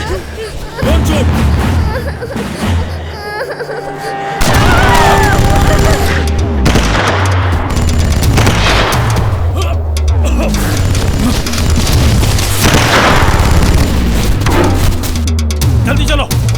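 Heavy gunfire and booming explosions fill a movie shootout, with dense automatic bursts and blasts over tense music. Shouting voices break in now and then.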